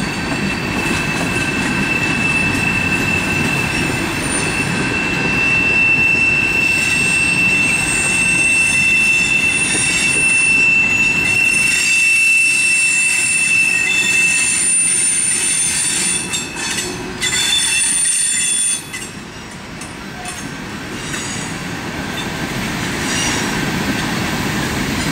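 A CSX freight train rolls past close by, a loud steady rumble topped by high, piercing wheel squeals that rise and fade over time.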